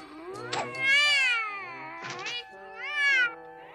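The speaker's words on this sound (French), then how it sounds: "Oh! Un chat noir!" A black cat meows in a French-dubbed Smurfs cartoon: two drawn-out, wavering meows, each led by a short sharp onset, clear and close against a quiet background.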